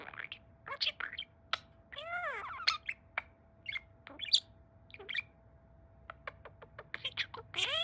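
Pet budgie parakeet chirps and warbles indoors in short bursts and rising, sweeping calls, interspersed with clicks, fairly close but quiet.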